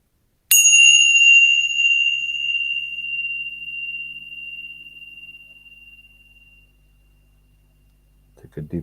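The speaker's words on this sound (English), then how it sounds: "Tune into the sound of the bell." A meditation bell is struck once up close, its bright, sustained tone ringing clearly and fading slowly over several seconds in a quiet room, before a voice begins speaking at the very end.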